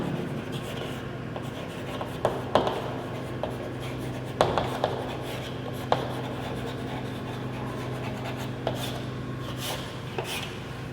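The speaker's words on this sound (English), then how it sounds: "first you have to write the heading of the theorem" Pen or chalk writing a geometry theorem heading in a math lesson, soft continuous scratching strokes with occasional sharper taps, close, over a steady background hum and no clear speech.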